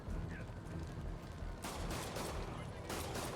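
Police officers fire guns in the Spider-Man PS4 game: rapid volleys of shots crackle over a dense, rumbling action soundscape, with sharper clusters of gunfire near the end.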